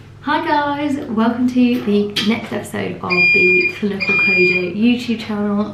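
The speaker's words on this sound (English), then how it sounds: "Sorry about the constant beeping, that is our security system in the pharmacy." Pharmacy security system alarm beeping in steady, high-pitched tones behind close, continuous talking, the beeps emerging most clearly in the latter half.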